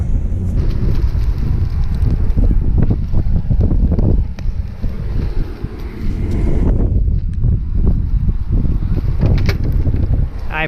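Strong blizzard wind at Kirkwood in California's Sierra, a loud, steady roar with gusts buffeting the microphone from start to finish.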